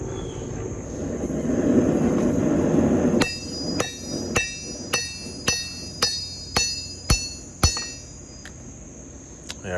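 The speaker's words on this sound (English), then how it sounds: "we're using the flat face of the hammer" Hammer planishing hot steel with its flat face while forging a war hammer: after a stretch of roaring forge noise, about ten sharp, ringing metallic strikes land in a steady rhythm, close and loud, with no talking.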